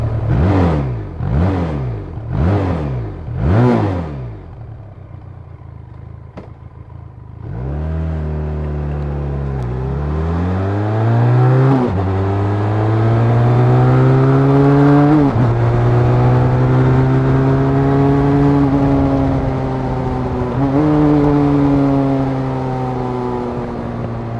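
A Benelli TRK 502 motorcycle engine blips four quick revs, then settles into a loud, steady exhaust drone that climbs in pitch as it revs up.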